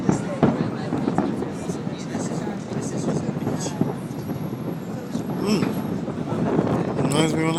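July 4th fireworks going off outdoors, a dense run of crackling pops and thuds under wind noise, with people talking and exclaiming over them.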